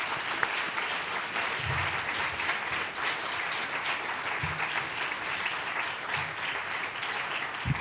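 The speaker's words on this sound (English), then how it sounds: "I think we need to give a round of applause to all the guest speakers" An audience at a Design for Change Malaysia/Singapore event gives guest speakers a sustained round of applause, many hands clapping in a steady, even wash throughout, with a few low thumps underneath.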